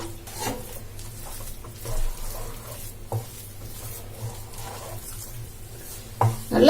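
Rice flour mixture being stirred in a nonstick pan on a stove set to simmer, with soft intermittent scraping and rubbing strokes, quiet and close, plus a louder clatter near the end.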